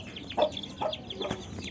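A Rampur breed hen clucks close by, giving about four short, throaty clucks in under two seconds over a quiet background.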